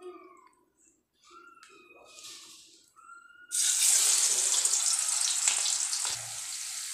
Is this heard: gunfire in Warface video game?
no